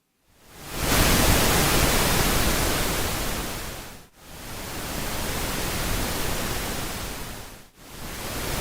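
Pink noise test signal in a controlled environment picked up by a shotgun microphone: a dense, continuous hiss, slightly quieter than the omni pickup, with the level sagging and dipping sharply twice as the pickup direction changes.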